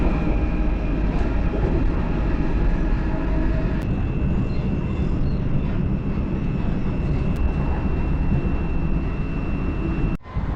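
Steady rumbling of a train in motion near Dumbarton, Scotland, with a sustained whine over it, moderately loud, ending with a brief sharp click.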